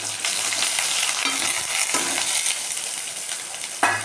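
Chana dal and onion frying in a pan, a steady dense sizzle and crackle throughout with a few light stirring scrapes and clinks, close and fairly loud, no talking.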